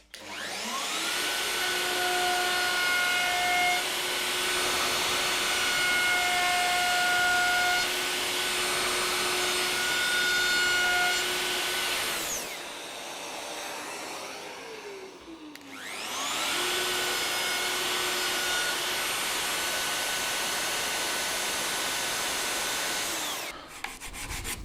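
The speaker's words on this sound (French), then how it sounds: "je vais venir usiner de la même manière dans le sens du fil" A handheld wood router machines along the grain of wood on a jig for a first furniture piece, a loud sustained whine that cuts out briefly midway, winds down and restarts, running alone without speech.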